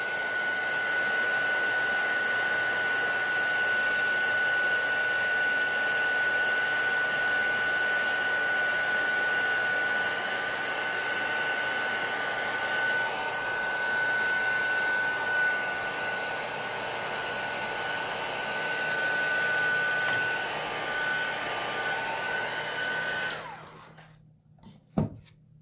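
A handheld heat tool blows steadily and loudly at close range, drying bubbled embossing on a stencil, a constant whooshing fan roar that holds for over twenty seconds before cutting off.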